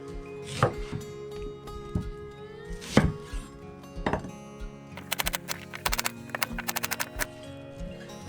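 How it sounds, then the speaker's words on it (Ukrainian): A knife chopping onion on a board, with a few heavy thunks early on and then quick bursts of rapid cutting taps, close and fairly quiet. "Цибулю ріжемо як на плов."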